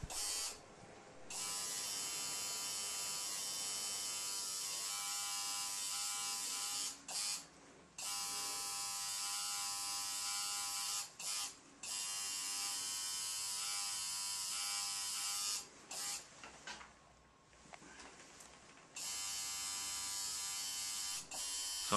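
A tattoo machine buzzes steadily and close, a thin high electric whine running in long stretches with a few brief pauses and dips as the needle grouping is worked sideways across the skin.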